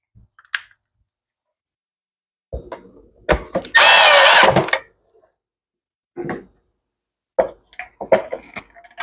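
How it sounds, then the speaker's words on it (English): A power drill drives screws back into a plastic gas tank during a leak repair, giving one short, close whirring burst among scattered clicks and handling knocks, with no talking. "Put screws back in and we're done."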